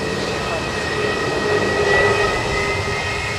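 A Jetstar Airbus A320neo jet departing Sydney Airport, a steady loud engine roar with sustained tonal whines, swelling slightly in the middle of a short stretch.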